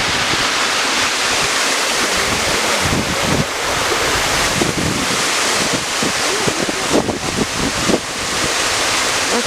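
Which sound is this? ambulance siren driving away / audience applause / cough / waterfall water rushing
waterfall water rushing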